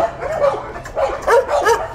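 Trained search and rescue dogs bark in a quick series of sharp, yelping barks and yips, close and fairly loud over a low background rumble.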